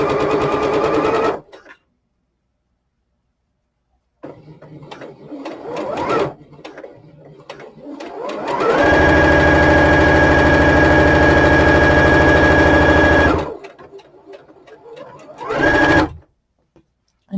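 A sewing machine with a size 14 needle and a 3 stitch length sews the seam of a knit toque. It starts with a short burst, pauses in silence, then runs in bursts and one long steady run before stopping.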